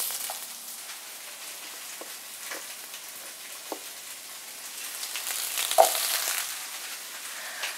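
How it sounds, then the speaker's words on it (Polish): Zucchini tipped into a pan of fried onion gives a soft, steady sizzle, with a few small clicks and a louder burst of frying near the end. "Do podsmażonej cebulki wrzucam cukinię."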